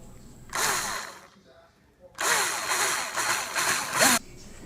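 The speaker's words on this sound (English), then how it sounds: "The first thing we did was drill the hole right in the center of the track." A power drill bores a hole through HO-scale model railroad track in two whirring bursts, a short one and then a longer run with pitch dips as the bit bites.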